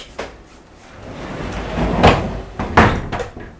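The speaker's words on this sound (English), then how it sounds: "I didn't like how the sliding doors are so solid." A heavy, solid sliding door on a converted shipping container motel room rumbles along its track and closes with a couple of sharp knocks near the end, close and fairly loud.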